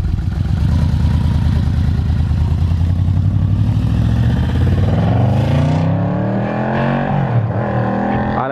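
A hard-worked motorcycle engine roars loud and close at high revs, holding a strained, buzzing drone before the pitch sweeps down and winds off, with a final blip near the end.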